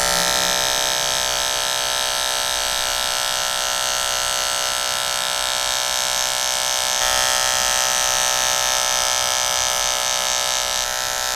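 Hair clippers with a number one guard buzz steadily and loudly through a skin fade on curly hair, a constant electric hum with a slight shift in tone partway through.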